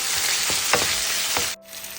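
Onion and tomato with ginger and garlic sizzle and crackle in hot oil, a bright steady frying hiss with a few stirring scrapes before it abruptly cuts off.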